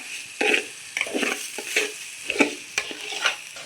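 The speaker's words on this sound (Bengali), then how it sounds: "তো চালটাকে ভালোভাবে ভাজা ভাজা করে নিব" Rice is stir-fried in a pot for biryani with a spoon scraping and turning it. Rhythmic stirring strokes repeat about once every half second over a soft sizzle, up close and without speech.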